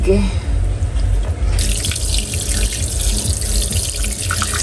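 Cooked kalalawan and taro leaves drained under a running tap in a sink, a loud continuous gush of water that grows brighter partway through, with faint background voices.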